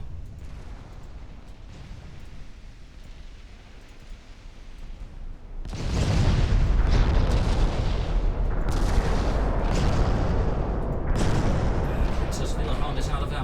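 Loud artillery fire and explosions from a warship battle in Ultimate Admiral Dreadnoughts, with a turret blown up, swell into a dense rumbling barrage of booms and blasts under a faint background wash.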